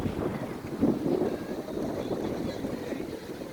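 Gusty wind roars across Lung Mei beach in Tai Po, Hong Kong, a constant close rumbling buffet on the microphone with a few stronger gusts early on.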